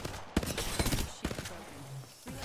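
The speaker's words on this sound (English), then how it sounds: "Opening fire." Bursts of gunfire from the video game Apex Legends, several sharp shots in quick succession, some loud, with mixed game sounds between them and a short later burst.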